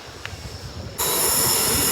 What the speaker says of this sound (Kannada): ಇನ್ನು ಟ್ರೈನ್ ಅಲ್ಲಿ ಬರ್ತಿದೆ